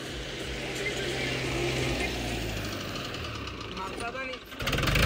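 Mahindra tractor engine labouring in third gear on a farm, a steady, loud, low mechanical drone with a rattling, ratchet-like texture that runs continuously and dips briefly near the end.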